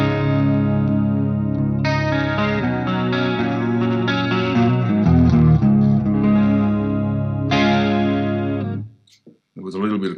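An electric guitar played through a Suhr amp with chorus and a Suhr Riot overdrive pedal rings out in sustained, shimmering, driven chords that stop abruptly near the end, followed by a few brief picked notes.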